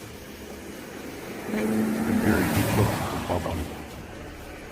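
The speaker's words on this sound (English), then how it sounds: "The sound of an approaching engine turns out to be nothing more than oncoming traffic." An engine of oncoming traffic approaches on a bridge at night, a low rumble swelling to a peak then easing off, heard amid wind and ambient noise.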